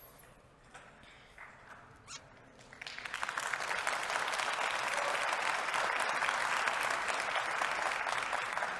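Conference audience applauds after a tech talk: a few quiet sounds and scattered claps, then clapping swells to full, sustained applause from about three seconds on.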